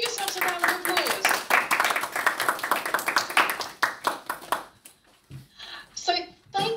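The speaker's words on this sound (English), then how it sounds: "Give yourselves a round of applause." Children clap as a group at a school talk about the Houses of Parliament, quick and uneven, then it thins to a few last claps while young voices chatter over it.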